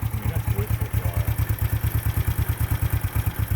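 A Kawasaki motorcycle engine, one of several classic two-stroke models, runs at a fast, even idle with a loud pulsing beat close by, and a voice speaks briefly over it.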